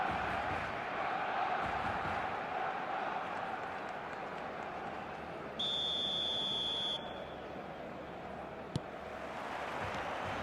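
Stadium crowd in the eFootball video game, a steady broad roar of a packed football match-day crowd holding throughout, with a brief electronic tone partway through and a single sharp click near the end.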